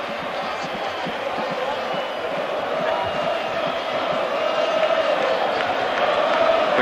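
Dense stadium crowd at a 1986-87 Serie A match between Napoli and Atalanta, a steady roar of cheering and chanting that swells slightly toward the end, with a commentator talking over it.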